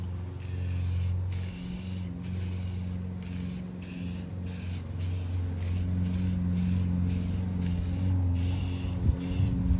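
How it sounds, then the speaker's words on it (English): Spray paint hisses steadily from an aerosol can in light back-and-forth coats over Nissan 350Z crash bars, loud and close with brief regular pauses between passes. "I'm just doing some nice light coats back and forth so we can get a nice layer on it."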